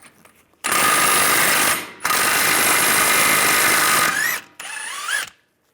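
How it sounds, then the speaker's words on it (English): A 30mm 12-point socket working loose the axle nut on a 1998-2010 VW Beetle: loud, close mechanical whirring in two long bursts with a brief pause between, then a shorter final burst. "Now I'm going to use a 30mm 12-point socket."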